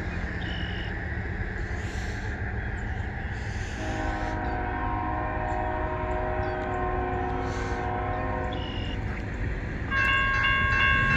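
A westbound CN mixed freight train passes at Port Huron, Michigan, with a continuous rumble of rolling cars and a sustained horn blast mid-clip, followed by a crossing bell ringing near the end.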